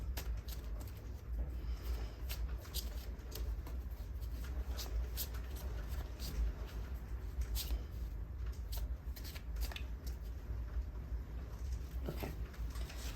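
Tarot cards being shuffled by hand, a steady run of soft papery riffles and crisp flicks that continues close and clear for the whole stretch, with no talking over it.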